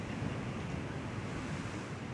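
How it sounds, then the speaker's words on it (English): Ocean waves wash steadily at low tide around the natural rock swimming pools of Agaete, a continuous broadband surf roar with some wind rumble, close and fairly loud with no talking. "Right now it's a low tide, so the waves are not crashing that much into the swimming pools"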